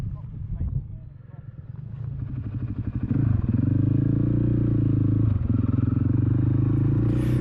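A KTM EXC dirt bike on a trail ride idles and then revs up into a loud, steady engine drone close by, with a brief clatter early on.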